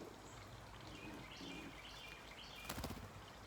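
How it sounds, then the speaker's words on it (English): A bird released by hand from a banding net at Hilton Pond flaps off, a brief burst of wingbeats near the end over faint outdoor ambience, with no talk. "we hope it flies above the net when I release it"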